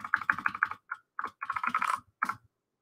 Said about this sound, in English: I even tried typing out my name.